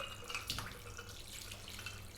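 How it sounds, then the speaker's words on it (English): Ice water pours over two beef brains in a kitchen, a faint, soft trickling and splashing with light dripping throughout. "What we're going to do is we're going to pour ice water over this."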